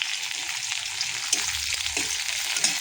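Onions fry in a pan with a steady, soft sizzling hiss at close range, broken by a few faint stirring clicks, with no voices.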